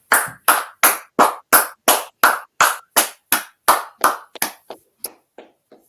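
Students clap together at the end of a class, a single close clap pattern of about fifteen sharp, evenly spaced strikes that slow and thin out into a few last scattered claps before silence.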